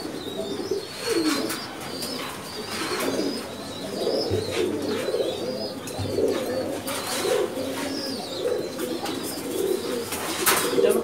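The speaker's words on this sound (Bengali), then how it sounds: "খয়রা গলা এই কবুতরটা" A Khoyra Gola breed pigeon in a breeding loft gives repeated low, rolling coos at close range, joined by faint chirps and brief wing flutters from other birds.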